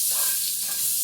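Butter sizzles in a frying pan as a loud, steady, close hiss that fills the short stretch without a break.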